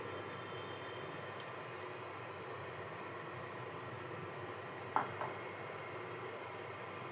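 Ripe banana fritters fry in hot oil with a steady, even sizzling hiss. The sound stays close and constant, broken by a couple of faint utensil clinks, with no talking.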